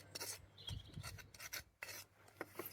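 Slate dug up from a backyard garden being scrubbed clean, a raspy rubbing with repeated strokes, close and fairly quiet with brief pauses.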